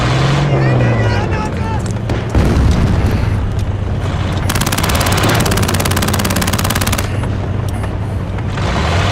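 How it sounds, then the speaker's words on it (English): A war-movie battle scene: rapid machine-gun bursts over heavy booming explosions and rumbling vehicles, loud and dense, with one sustained rattling burst in the middle. "Fire a few rounds at the pedestrians."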